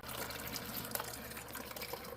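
Water runs from a GE refrigerator dispenser after a new filter is fitted, a steady splashing fill stream with small bursts, close and unbroken, with no voices.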